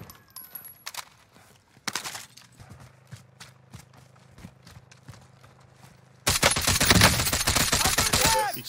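Sharp rifle shots and gunfire in Call of Duty: Warzone, scattered single cracks and footstep-like clicks before a dense, loud volley of rapid shots in the final seconds.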